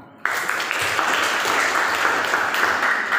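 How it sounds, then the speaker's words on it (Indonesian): Steady applause from a class group begins abruptly and continues evenly, a dense patter of many hands clapping close by. "kita kasih tepuk tangan"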